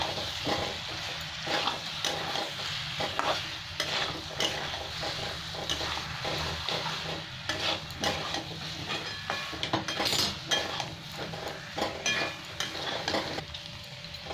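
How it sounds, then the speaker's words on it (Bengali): Boiled potatoes, scored on the sides, being stirred and sautéed with spices in a pan for a Bengali potato curry: a continuous soft sizzle under repeated scraping and clinks of a spoon against the pan, close and steady. "এবার ভালো করে একটু কষে নেব।"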